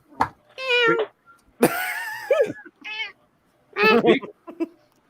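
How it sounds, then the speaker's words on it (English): A cat meows several times up close, short and drawn-out cries with small chirps between, in an otherwise quiet room. "I made the cat happy. Okay. So let's that's a real cat."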